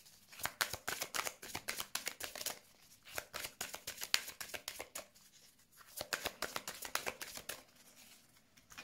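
Tarot cards being shuffled for a card reading, close and crisp, in repeated bursts of rapid riffling flicks separated by short pauses, with no talk.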